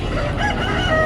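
A rooster crows at a busy Sunday village livestock market in Kothagudem, a loud, close call rising over dense crowd noise without a break.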